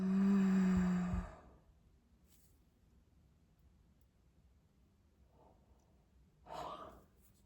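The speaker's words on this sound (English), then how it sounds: "Exhale off your mouth." One person breathes out slowly through the mouth, a long soft exhale, followed by quiet stillness and a faint breath near the end.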